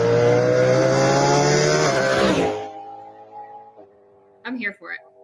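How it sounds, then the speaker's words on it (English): A Cadillac GTP race car with a 5.5-liter double-overhead-cam V8 screams at high revs, then winds down with a falling whine, and a brief voice follows at the end. "Cadillac Performance went ahead and posted their engine sound"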